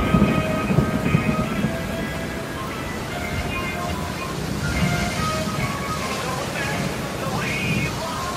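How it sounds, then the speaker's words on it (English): Heavy rain pours down suddenly outdoors at a bison ranch in Cheyenne, Wyoming, a steady loud roar with low rumbling that could be thunder beneath it. "All of a sudden, it started to pour."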